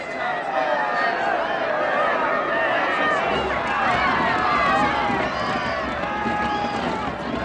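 A large, dense crowd of onlookers awaits Walter Raleigh's execution, a steady roar of overlapping voices and murmuring chatter that stays loud and close throughout the dramatized scene.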